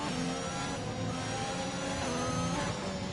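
An F1 2021 racing car in the video game, a continuous high-pitched engine drone rising and falling with throttle and braking, loud and unbroken, with no talk.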